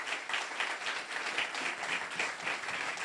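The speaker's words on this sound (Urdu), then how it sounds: "تالیاں بجائیں گے خدا کے جلال کے لیے." A church congregation claps together for the glory of God during a sermon, a dense steady wash of many hands beating in quick, unbroken applause throughout.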